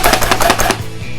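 A small food chopper works through garlic with a quick run of about eight rapid blade chops, loud and close, before slowing to a couple of softer knocks.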